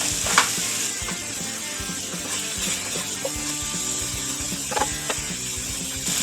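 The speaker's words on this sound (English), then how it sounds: "We're still going to add in our onions and our bell pepper and our baby bella mushrooms here. We're going to allow them to sweat out." Onions, bell pepper and baby bella mushrooms sizzle steadily in a hot pan for beef stroganoff, a constant close frying hiss with occasional soft stirring clicks and no speech.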